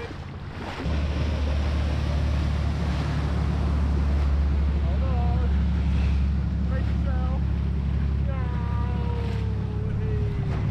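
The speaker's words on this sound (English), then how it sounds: "Ah, there's a big boat coming." A deep, steady engine drone and rushing water and wind fill the scene as a large boat passes on the Solent near the Isle of Wight at sunset, with distant chirping calls overhead.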